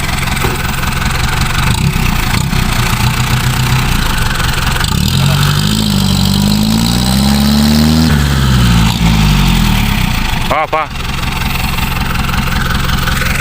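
A stuck dump truck's diesel engine, loud and close, idling heavily then revving up and down in rising and falling surges as it strains to climb out, with a brief dip near the end.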